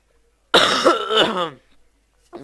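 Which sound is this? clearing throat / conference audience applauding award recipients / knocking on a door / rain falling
clearing throat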